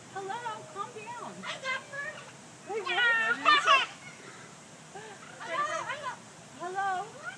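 A talking parrot at the Sacramento Zoo imitates a cat's meow in several short, wavering calls scattered across the clip, at moderate loudness with quiet gaps between.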